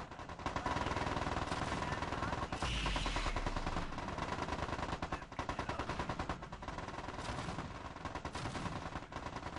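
Rapid, continuous bursts of mech weapon fire from the strategy game MechCommander 2, loud and dense with overlapping machine-gun-like volleys and heavier booms throughout.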